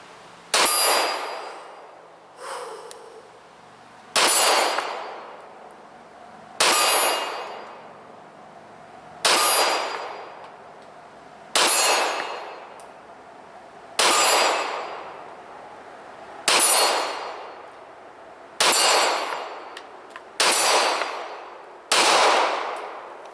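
Smith & Wesson M&P pistol fired at an outdoor range, roughly ten sharp, loud shots spaced a couple of seconds apart in a slow, steady rhythm, each with a ringing decay and no talking.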